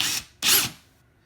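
A Bosch HDS183 18V cordless brushless hammer drill gives two short, close bursts of whirring, a brief pulse followed by a slightly longer one after a small gap, then winds down to near silence with no voices.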